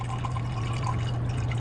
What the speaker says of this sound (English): And you want to pour slowly.